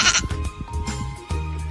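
A voice imitates a goat, giving a few wavering, bleating cries up close.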